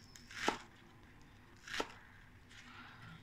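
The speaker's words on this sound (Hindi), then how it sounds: "हरा प्याज का पत्ता का इस्तेमाल करेंगे, इसको भी इतना बड़ा बड़ा काटें" Knife chopping green onion leaves into large pieces on a board for chilli chicken, two distinct crisp cuts a second apart followed by a softer third, close and fairly quiet.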